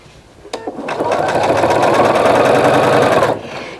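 A sewing machine runs steadily for about three seconds, stitching binding onto a large quilt, its fast even whir loud and close after a brief start, then stopping abruptly.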